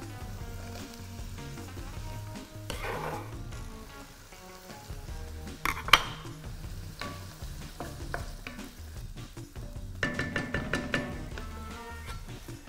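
Sliced carrot goes into a pan for Peruvian tripe cau cau and is stirred, giving a soft steady sizzle under scraping spoon strokes, with louder clattering stirs near the middle and end.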